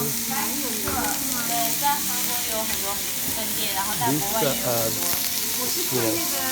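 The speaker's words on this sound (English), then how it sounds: "They barbecue it for you." Beef sizzling on a Korean barbecue grill at a restaurant in Seoul, a steady loud hiss of frying meat beneath ongoing chatter and voices nearby.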